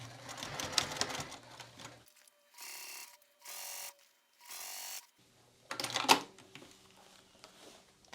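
A sewing machine stitching binding onto a fabric wristlet runs in several short bursts of steady whirring, separated by brief pauses, with close clicking of the mechanism and a louder clack near the end.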